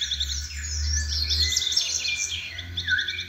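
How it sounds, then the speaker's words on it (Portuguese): Several birds chirp and trill in quick high bursts over a low steady hum, fairly close, with no voices. "somente se ouvia o chilreirar de alguns pássaros"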